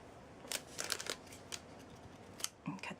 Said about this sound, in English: take my scissors